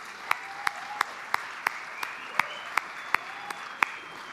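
Sparse, evenly spaced single claps ring out in a quiet room at a neighborhood business awards ceremony, about a dozen sharp hand strikes over a faint steady background hum, with no voices.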